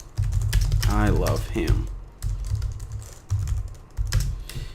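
Keys tapped on a computer keyboard while a short greeting is typed, a steady run of close, crisp clicks that pauses and resumes, with a person speaking over the first part.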